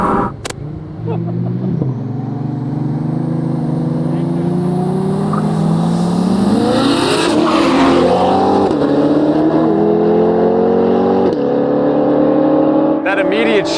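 A 600hp Lexus GS 300 races a C8 Corvette from a roll, engines droning loud and rising in pitch through a gear shift as the cars accelerate, heard from inside with voices speaking over it.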